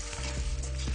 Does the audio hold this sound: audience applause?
no